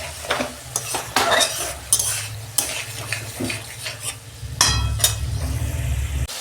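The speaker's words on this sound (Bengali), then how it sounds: "মশলাটা আমি 2 মিনিট কষাবো" A spice paste with sour yogurt and a little sugar, cooked for a catla fish curry, is stirred and fried in a pan. A spoon scrapes and clatters at close range, with steady sizzling between the strokes and no talk.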